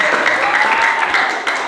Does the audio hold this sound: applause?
yes